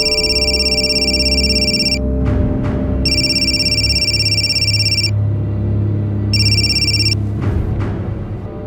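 A telephone rings late at night in a crime drama scene, with three loud electronic trilling bursts separated by short pauses over a steady low rumbling background.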